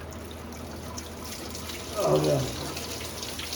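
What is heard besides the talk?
coolant pouring out of a Nissan D21 radiator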